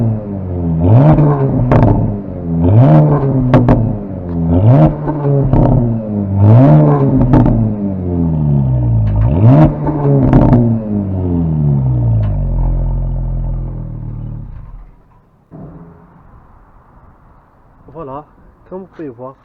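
A Porsche Panamera 4S hybrid's 2.9-litre twin-turbo V6 revs hard in repeated rising and falling bursts, loud and close, then drops to a low idle with a couple of quick blips.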